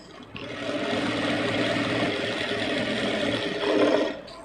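A sewing machine stitching blouse fabric runs in one continuous, even whirr close by, starting and stopping cleanly with a slight rise near the end, without any voices over it.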